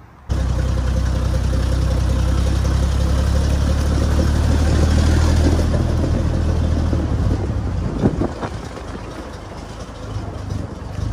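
A car engine starts abruptly and keeps running with a steady, loud low rumble, the tone dipping slightly near the end.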